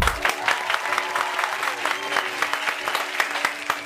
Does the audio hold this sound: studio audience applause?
yes